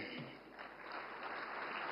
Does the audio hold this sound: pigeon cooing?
no